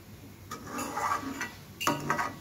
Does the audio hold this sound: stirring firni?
yes